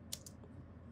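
Keyboard typing, a couple of quick key clicks close by and faint at the start, then quiet room tone.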